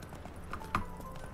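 Horse hooves clop in a quick, steady trot in The Witcher 3, faint and even against quiet game ambience with a brief brighter clink in the middle.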